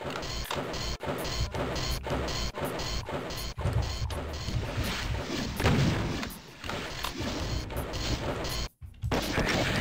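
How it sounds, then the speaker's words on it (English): A rocket launcher fires repeatedly in a DOS shooter video game running in DOSBox, each launch a sharp crashing blast in a fast, uneven series with heavy thuds. A brief near-silent gap falls just before the end. "let's just use some rockets for this guy"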